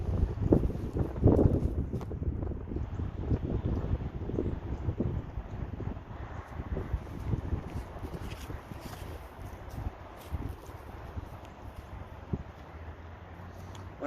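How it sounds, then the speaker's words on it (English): Gusty wind buffets the microphone outdoors on a disc golf course, a low rumbling roar that surges and eases over about fourteen seconds. "Wind picked up a little bit there."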